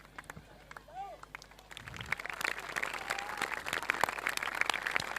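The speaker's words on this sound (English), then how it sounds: "With noises, voices all around. All cheering for their team." Crowd at a football match cheering and applauding, the clapping and noise building from faint to steady and moderately distant under a commentator's voice.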